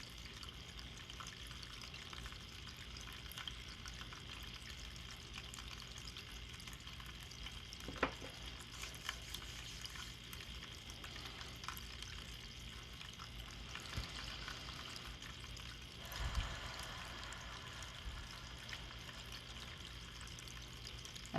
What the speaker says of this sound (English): I got the desktop waterfall on Amazon.